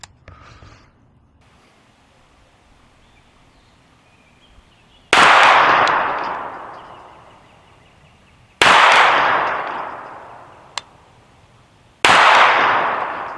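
Three loud, sharp shots from a Taran Tactical TR-9 pistol caliber carbine at an outdoor range, each ringing out with a long echoing decay, spaced a few seconds apart.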